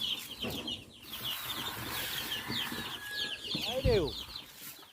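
Chicks are fed grain on a farm, clucking and peeping in short bursts among faint scratching, with one louder squawk near the end.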